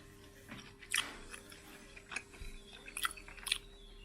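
Grilled pork neck being chewed close to the mic, with soft wet bites and crunchy chews in uneven bursts over a quiet background hum.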